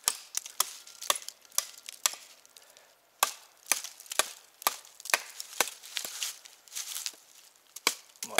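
Wood being chopped with a Kizlyar Supreme Survivalist X knife on bark-covered ground, a steady run of sharp, close, loud chops with short pauses, about sixteen strikes, no talking.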